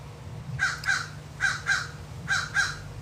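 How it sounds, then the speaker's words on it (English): Crows cawing outdoors in New Orleans, six loud, harsh caws arriving in three evenly spaced pairs over a faint steady hum. "Got the crows crowing."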